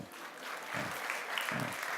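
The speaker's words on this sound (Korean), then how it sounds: "꿈돌이들 박수 한번 쳐주세요." A church congregation applauds during a Sunday worship service, with children in the room: soft, steady clapping heard from a distance, with low murmurs and a few voices beneath it.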